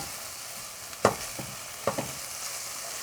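Garlic frying in a pan while cooking chicken in rice: a faint steady sizzle with a few sharp scraping stir strokes, quiet and close, no speech.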